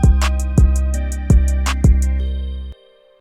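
Trap 808 bass notes programmed to line up with the kick drum, four heavy punchy low hits landing with bright percussive transients over a steady synth pad, loud and close, no voices.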